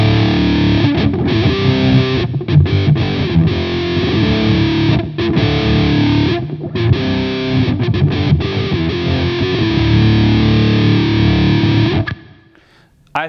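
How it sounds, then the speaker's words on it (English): Distorted electric guitar through a wah pedal held in its closed, dark-filtered position, chugging steady rhythm chords loudly for about twelve seconds before stopping. "when the wah is all the way back, all the way back, you can get this really cool filtered effect"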